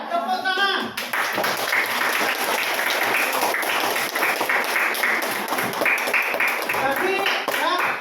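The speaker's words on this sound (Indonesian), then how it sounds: "Ya, mantap. Tepuk tangan." Applause after a classroom presentation, a dense steady patter of many hands clapping throughout, with brief voices and murmurs underneath and louder talk near the end.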